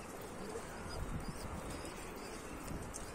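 Pigeons coo softly and intermittently at a Turkish pigeon loft, faint against a steady breezy background hiss.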